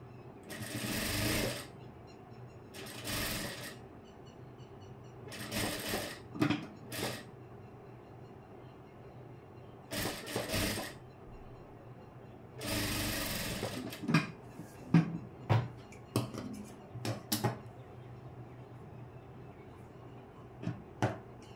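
A sewing machine stitches a hook strip onto a blouse in short separate bursts of close rattling whir, with clicks and handling noises between runs.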